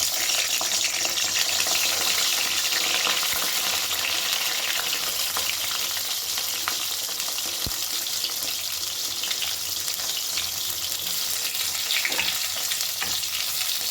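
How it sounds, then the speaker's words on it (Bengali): Eggplant slices fry in hot oil over a high gas flame, giving a steady, dense sizzle that holds close and loud for the whole stretch with no talking. "এবারে আমি বেগুনগুলো ভেজে নেব। বেগুনের উল্টো পিঠটা আগে ভাজবো"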